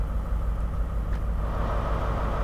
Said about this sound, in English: we can definitely hear that engine and the tone of it change